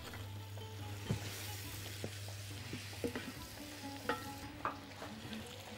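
Chicken and mushroom risotto stirred in a pan with stock and cream, a steady frying sizzle under repeated scrapes and knocks of the spoon against the pan, close and moderately loud, no talking.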